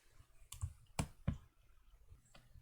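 Computer mouse clicks while selecting edges in FreeCAD part design, a few sharp, close clicks spaced irregularly over a quiet background.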